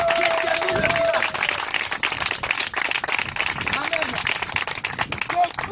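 Church congregation applauding and acclaiming during a French-language service: dense, continuous clapping and crowd noise, loud and sustained throughout.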